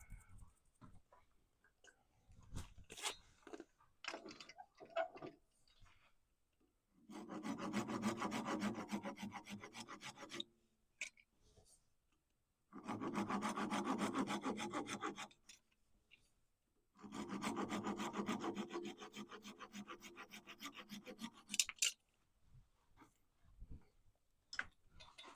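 Three long bursts of hand sawing cut through a wooden tenon in a woodturning shop, each stretch of steady back-and-forth rasping lasting a few seconds, separated by pauses with light tapping and handling noises.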